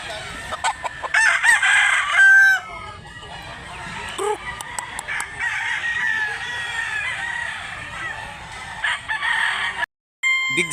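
Roosters crow repeatedly at a gamefowl market, several loud cock-a-doodle-doo calls overlapping with clucking and other birds nearby, with a bustling background throughout.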